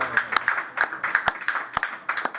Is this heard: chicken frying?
no